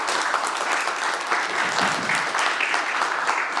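Sustained, dense applause from a symposium audience greeting a minister, steady and fairly loud clapping filling the room with no one speaking over it.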